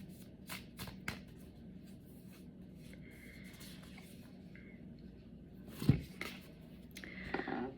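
Oracle cards from a 42 Ideals of Ma'at deck are shuffled by hand, giving a soft, steady papery riffle throughout, with a few sharper flicks and a louder burst of cards near the end, close and alone with no talk.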